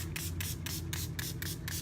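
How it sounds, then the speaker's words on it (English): A spray bottle fires a rapid series of about eight short, hissing bursts of water onto a kitchen board in an even rhythm, close to the microphone. "I'm just spraying this with a little bit of water"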